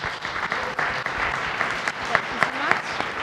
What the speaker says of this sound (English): Hand of applause for this fine woman.